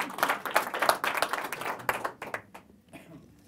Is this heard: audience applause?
yes